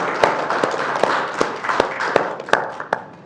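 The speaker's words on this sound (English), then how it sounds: "Round of applause." Sparse, rhythmic clapping in a conference room, a few distinct claps spaced about every half second, moderately close, applauding interns and fellows at a panel on medical operations in Ukraine.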